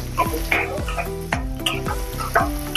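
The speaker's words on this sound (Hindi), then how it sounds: "प्याज भी अच्छे से भुनकर तैयार हो गए हैं" Sliced onions fry in a pan with asafoetida for masoor dal pulao, a close, steady sizzle broken by rhythmic stirring scrapes and musical background tones, with no voices.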